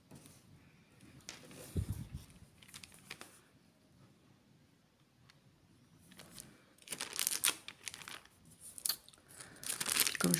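Plastic wrapping crinkles and rustles in bursts as it is handled, with quieter pauses between, close and fairly soft, with a few light taps and handling noises.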